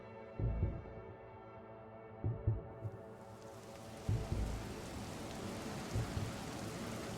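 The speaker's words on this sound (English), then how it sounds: "the rain begins to fall again" Rain falls as an ambient backdrop with low rumbling thunder-like swells recurring every couple of seconds, the hiss of the rain thickening and spreading as it goes on; no talking.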